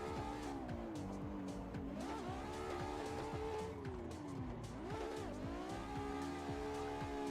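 A car in a racing sim, driven with a direct-drive wheel, swings into a 360 drift entry, engine revving up and down in sweeping waves with tire squeal and skidding throughout, loud and sustained.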